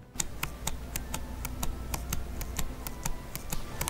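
A key on a GPD Win Max 2 prototype keyboard is pressed over and over. The arrow key rubs against the housing, so each press gives a crisp, close click, repeated at a steady pace.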